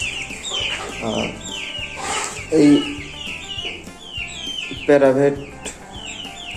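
Brahma and local desi chickens clucking on a farm at deworming time, bursts of clucks and calls scattered through the clip, with a voice speaking over them.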